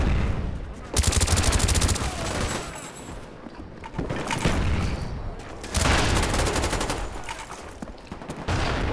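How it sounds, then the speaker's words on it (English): Rapid automatic gunfire and explosions in Call of Duty Black Ops come in dense, loud bursts separated by brief lulls, sometimes overlapping into sustained volleys. "Throwing grenade."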